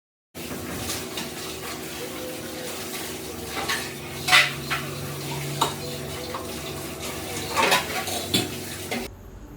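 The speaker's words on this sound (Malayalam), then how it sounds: "ലഞ്ചും കഴിഞ്ഞു പാത്രം കഴുകിക്കൊണ്ടിരിക്കുകയാണ്" Dishes and utensils clatter in running water at a sink, with sporadic clinks and scrapes over a steady wash of tap noise.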